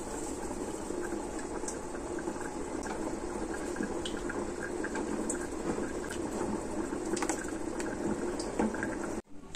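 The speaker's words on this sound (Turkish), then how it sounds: "Hazırlamış olduğum sosu tenceremizin içerisine dökeceğim." Prepared sauce poured into a pot of vermicelli soup, producing a continuous close liquid splashing and gurgling, steady and moderately loud, then stopping abruptly at the end.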